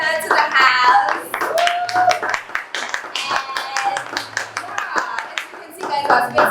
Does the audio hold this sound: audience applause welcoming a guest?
yes